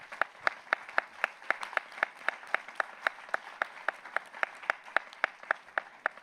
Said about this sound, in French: Applaudissez-les et applaudissez-vous.